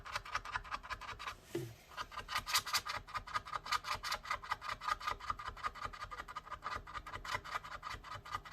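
Adhesive is scraped off the battery of a MacBook A1534 in quick rhythmic strokes, close and scratchy, with a short pause before the rapid back-and-forth picks up again and keeps going.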